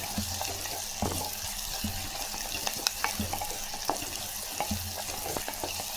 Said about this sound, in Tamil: கை நிறைய வெள்ளைப்பூண்டு, நல்லா வதக்கிடலாம்.